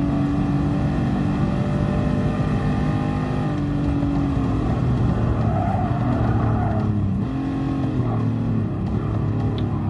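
Race car engines in the Gran Turismo Sport video game, with a Ferrari F40 among the field, drone loudly and steadily throughout, the pitch rising and falling through gear changes with no talking.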